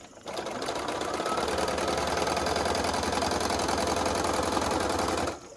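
A sewing machine stitches quilt pieces in one steady, fast, even mechanical whir and clatter, close and loud, starting abruptly and running unbroken for several seconds before stopping.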